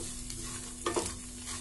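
Vegetables and vermicelli for upma being stirred and cooked in a kadai, a brief soft sizzle with a scraping stir in the middle.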